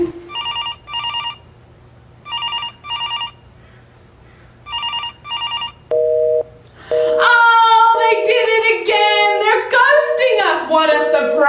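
A telephone ringing sound effect, three pairs of bright electronic rings separated by pauses, then a short lower tone before a burst of wailing, crying-like voices fills the rest, all loud and close.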